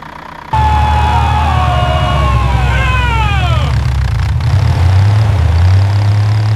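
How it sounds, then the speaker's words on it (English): A cartoon tank truck's engine starts up and settles into a loud, steady idle, with a sweeping siren-like whistle rising and falling over the rumble before fading out. "Engine starting! To the water tower!"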